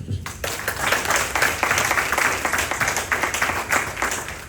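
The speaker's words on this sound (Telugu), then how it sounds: "సౌండ్ రావటానికే చప్పట్లు కొట్టారు. కొట్టండి మరోసారి." A congregation at a worship night claps hard and fast together, dense and close with rhythmic pulses throughout, after a brief quiet start.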